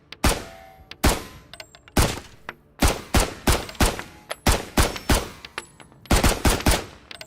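Pistol shots in the survival shooter Road to Vostok, a dozen or so sharp, loud reports fired one at a time in a fairly steady rhythm, each with a short decaying tail and no talk.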